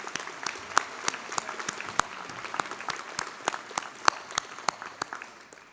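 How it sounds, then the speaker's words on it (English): Graduation crowd at Williamsville East High School's 2019 ceremony applauding, scattered sharp claps over a steady wash of clapping in a large hall, moderately distant and sustained. "let's give them a round of applause for all of their support over the years."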